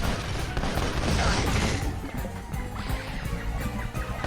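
Turret cannons firing nonstop in the video game Spyro: A Hero's Tail, a dense, loud barrage of rapid blasts with booming low rumble filling the whole stretch.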